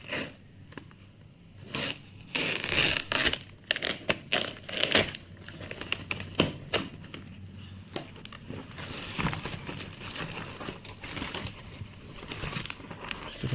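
Loose crinkling and sharp ripping bursts, like packing tape being torn off a parcel, coming in uneven spurts, close up with no talking.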